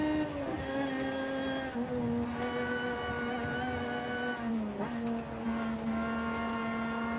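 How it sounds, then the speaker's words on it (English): A high, steady supercharger whine over a running Lotus car engine, pitch holding level with brief dips as the revs shift. "Listen to that supercharger whine."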